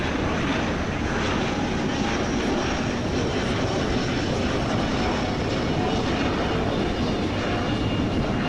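An Airbus A330's engines hum in a steady, unbroken broadband roar during cruise inside the Prepar3D flight simulator, with no pauses or changes in pitch throughout.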